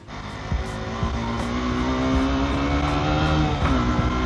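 A small Honda RC125, a 125cc four-stroke motorcycle, revs and accelerates steadily, its tone rising through gear changes, loud and close with no talking.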